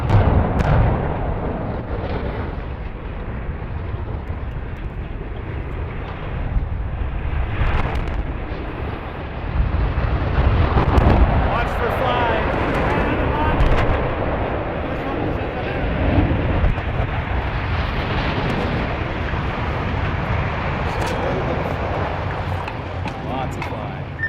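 The twin smokestacks of the Nanticoke Generating Station collapse in a controlled implosion, a long, deep and heavy rumble with rolling booms that lasts over twenty seconds while a voice talks over it.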